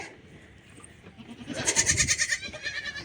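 A young goat kid bleats while being lifted by its legs, giving several quavering cries that start faint and grow loud and close, with no voices.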